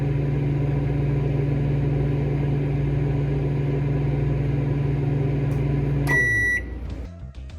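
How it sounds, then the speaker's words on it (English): A microwave oven heating porcupine meatballs hums steadily for several seconds, then stops with a click and a single beep, leaving quiet room sound. "So lots of microwave noises for you today."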